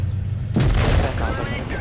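A tank cannon in the mobile game World of Tanks Blitz fires a premium gold shell: one sharp, heavy boom that breaks a quiet stretch and then fades into a rumbling tail.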